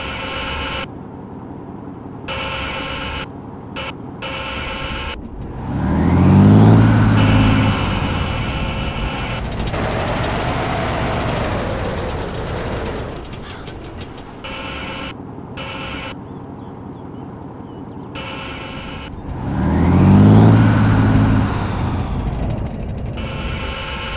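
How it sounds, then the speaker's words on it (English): A vehicle engine in the Arma 2 Wasteland mod revs and idles with a low rumble, swelling loudly twice in rising surges amid a busy game soundscape, with no talk over it. "Someone just got into a vehicle."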